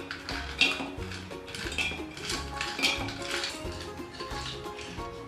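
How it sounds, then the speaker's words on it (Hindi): Ice cubes drop and clink against a glass as they go into a drink, with repeated bright knocks and rattles over background music. "अब मैं इसमें बर्फ़ डालूंगी।"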